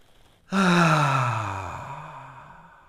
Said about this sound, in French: Prends une grande inspiration.